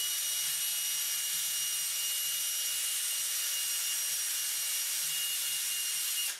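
A power drill fitted with a sanding pad works the edge of an acrylic sheet, giving a steady, high, hissing abrasive rub that runs continuously at close range with no talk.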